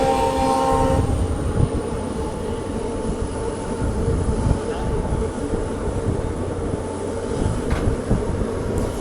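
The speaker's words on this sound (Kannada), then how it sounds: "ಸಾಂಗ್ಲಿಯಿಂದ KSR ಬೆಂಗಳೂರಿಗೆ ಹೊರಡೋ ಟ್ರೈನ್" The Rani Chennamma Express, a Sangli to KSR Bengaluru passenger train, arrives: its horn sounds briefly at the start, then a loud, continuous rumble and clatter of rolling rail cars carries on close by.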